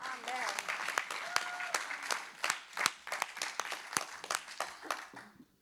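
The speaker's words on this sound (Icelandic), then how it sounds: "Hvernig var að gefa þessum snillingum gott klapp?" Applause from a church congregation after a worship band's set, a dense patter of clapping with sharp individual claps that gradually thins out toward the end, heard at moderate distance.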